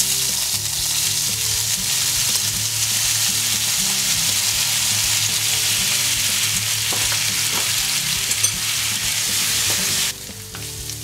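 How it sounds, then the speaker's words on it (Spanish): Tofu sautéing in hot oil in a frying pan, a loud, dense, continuous sizzle close by with faint stirring, easing off slightly near the end. "Ponemos un poco de aceite en una sartén y cuando esté caliente incorporamos el tofu y lo vamos salteando hasta"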